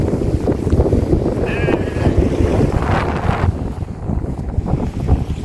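Heavy wind gusts on a beach on the Isle of Mull, roaring loudly and steadily against the microphone with surging peaks, with no clear speech over it.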